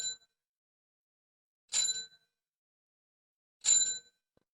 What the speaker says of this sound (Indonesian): Apakah teman-teman bisa mendengarkan suara bel sepeda?